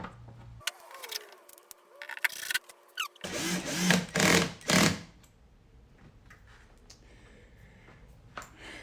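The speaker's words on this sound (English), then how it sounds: "We're going to go ahead and replace all the screws." Power driver running screws back into the air filter box of a Cadillac Escalade, heard as several short whirring bursts in quick succession, the loudest cluster near the middle, followed by quiet handling noise.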